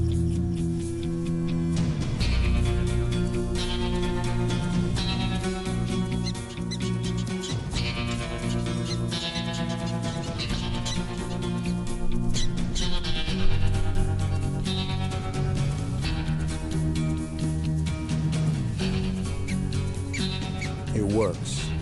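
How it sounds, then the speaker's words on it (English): Prairie dogs give sharp, repeated alarm calls warning of a rattlesnake on open Wild West grassland, the chirps mixed into a steady, loud musical score that runs throughout. "This particular call is specific to the snake. It's what "Look out, Rattler!" sounds like in Prairie Dog."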